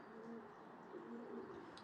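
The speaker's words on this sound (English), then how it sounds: "We've got pigeon sounds." Pigeons coo softly by a bridge at a cold, icy lakeside on a nature walk, low repeated hooting calls drifting at moderate distance over a steady background hush, with no voices.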